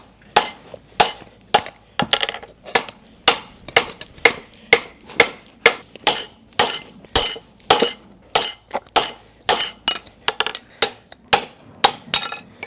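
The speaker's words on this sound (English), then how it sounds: "Overlapping hammer blows." Rapid, steady series of sharp metallic hammer blows on a horseshoe, about two strikes per second, close and ringing with no talk.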